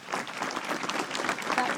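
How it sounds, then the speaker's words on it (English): Applause from an audience following a speech, a dense, steady patter of many hands clapping at moderate loudness throughout, with no voices standing out. "Clapping."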